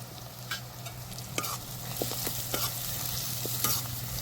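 Onions with ginger, green chilies and green garlic cooking in a pan, a steady sizzle broken by several sharp spoon clinks and scrapes as the mixture is stirred, close, with no voices.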